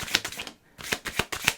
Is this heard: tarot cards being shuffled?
yes